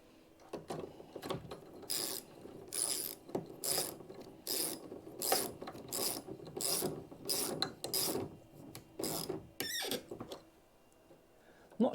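Ratchet clicking in quick repeated bursts while tightening a nut over a copper split washer on a LiFePO4 battery terminal, close and crisp with short pauses between strokes.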